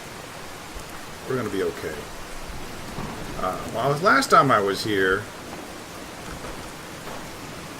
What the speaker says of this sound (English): Turn the rain down real quick.